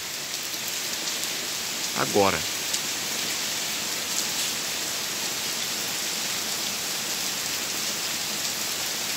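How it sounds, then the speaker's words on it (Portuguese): Moderate to heavy rain falls over the city of Porto Alegre in the early morning, a steady, dense hiss that stays constant throughout, with a single short word spoken near the start. "E uma chuva moderada forte aqui na cidade."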